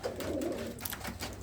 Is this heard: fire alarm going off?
no